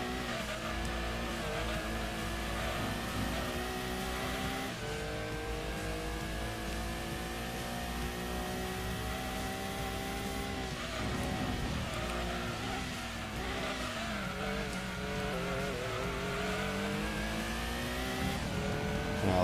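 A Mazda Protege engine in Gran Turismo 2 revs and climbs through gears in a continuous, loud racing drone, with pitch sweeps at each shift and faint tire noise, no speech.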